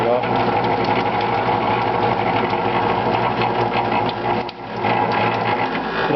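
A bench grinder hums and whirs steadily on its grinding stand on a concrete floor, with a busy mechanical rattle throughout as it vibrates, briefly dipping once.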